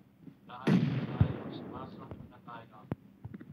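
Grenade explosion in PUBG Mobile: a sudden booming blast followed by a rumbling decay over about two seconds, then a sharp distant crack, with faint voices around it.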